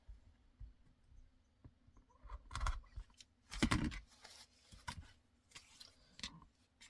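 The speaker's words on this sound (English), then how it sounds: "start by cutting my zipper tape" Several quick, crisp snips of scissors cutting through zipper tape, with short pauses between cuts, close and fairly quiet.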